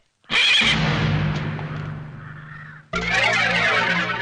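A horse whinnies loudly and close, a long neigh trailing off, then a second sharp whinny after a short gap, set in a village scene with bandits on horseback.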